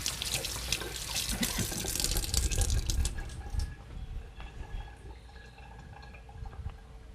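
Tap water runs in a kitchen sink as something is rinsed off during cooking, a loud close gush for a few seconds that cuts to a quieter trickle and occasional drips.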